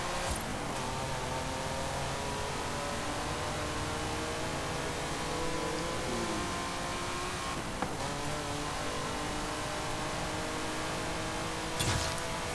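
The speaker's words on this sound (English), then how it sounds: "it's still got that gorgeous sounding V12, which I'll let you listen to for a little bit" A 1973 Lamborghini Espada 400 GT V12 engine in a racing video game drones steadily and rises in pitch as it revs, with harmonic tones sweeping up and down, continuous and fairly loud with no talking.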